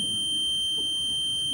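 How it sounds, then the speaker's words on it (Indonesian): An electronic alarm buzzer being wired up sounds a steady, continuous shrill tone with buzzy overtones throughout, loud and unbroken over a low background rumble. "Itu Buzzer, alarm itu itu buzzer. alarm buzzer."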